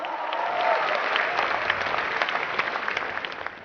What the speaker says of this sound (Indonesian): mohon aplaus untuk beliau